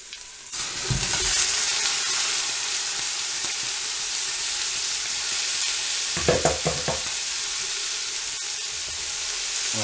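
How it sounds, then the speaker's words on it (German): Red cabbage frying with browned onions in a pan gives a steady, close sizzle, with a cluster of stirring scrapes and clatter partway through and no talking. "Sobald die Zwiebel Farbe bekommen haben, machen wir Rotkraut dazu."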